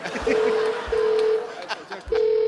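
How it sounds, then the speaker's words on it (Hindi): A phone ringing with short, bright repeated electronic tones in a Hindi comedy show setting, clear and close, with voices talking around the rings. "फोन आ रहा है"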